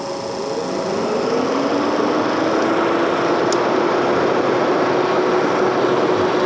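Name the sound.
electric motor running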